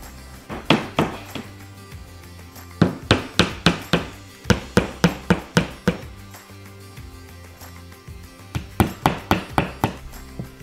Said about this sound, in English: A hammer and nails.